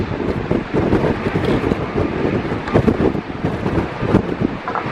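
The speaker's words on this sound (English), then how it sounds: "Man, it's getting windy though." Wind buffets a handheld microphone at a stadium construction site in Las Vegas, a loud, steady rumbling roar with gusty surges throughout and no other clear sounds.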